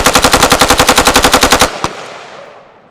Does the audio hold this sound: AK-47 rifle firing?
yes